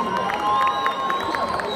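A crowd at a football celebration for Rukundo FC in Gitega cheers and claps, a dense wash of shouts and applause with whistle-like tones over it.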